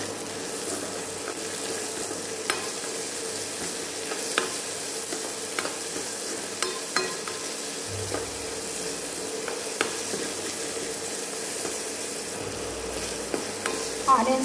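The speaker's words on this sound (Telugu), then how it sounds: "ఆనియన్స్ వేగాయి, ఇవి వేగిన వెంటనే 1 టమాటా తీసుకోవాలి" Onions frying in a pan, a steady sizzle running throughout with occasional stirring taps and scrapes of a utensil, close and fairly loud with no talking.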